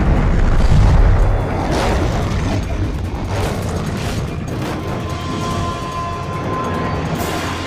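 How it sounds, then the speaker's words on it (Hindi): A bridge is blown up in a movie action scene, a massive booming explosion with a deep rumbling roar and crashing debris that rolls on for several seconds, loud and dense. "टारगेट उड़ा दिया गया है"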